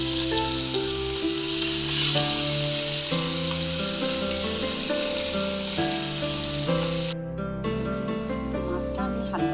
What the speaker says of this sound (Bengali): তেলটা গরম হয়ে গেলে আস্তে আস্তে মাছগুলো কড়াইয়ে দিতে থাকছি।